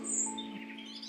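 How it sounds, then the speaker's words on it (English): A European robin chirps in a snowy Connemara hillside setting, giving a brief high twittering call, close and clear over a steady low hum. "He's a little robin."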